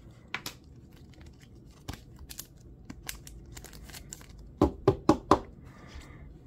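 Pokémon Paldea Evolved booster packs being opened by hand, with close crinkling foil and sharp tearing bursts, a cluster of quick rips near the end, under a quiet room.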